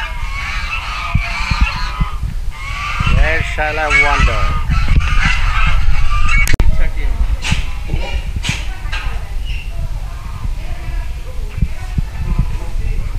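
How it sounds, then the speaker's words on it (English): Geese honk loudly and repeatedly at a weekend getaway spot near Mumbai, a noisy flock of overlapping nasal calls close by, with a person talking over the din partway through. "We have some geese."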